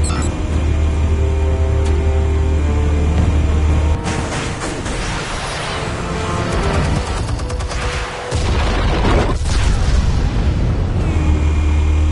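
Armed explosives go off in Batman: The Telltale Series, a loud booming blast that swells into a long, roaring rumble, with several heavy detonations and crashes rolling on for most of twelve seconds.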